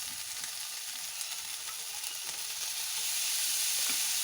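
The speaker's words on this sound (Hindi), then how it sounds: "और इसे हम खुश्क होने तक पकाएंगे" Chicken pieces fry in a pan with chili sauce and soy sauce over a medium flame, a dense, even, close sizzle that grows slightly louder toward the end, with no voices.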